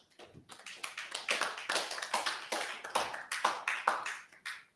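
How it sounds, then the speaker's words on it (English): A seminar audience of land surveyors claps in a steady round of applause lasting several seconds, individual claps crisp and close, rising quickly and then tapering off at the end. "Can we give him a clap?"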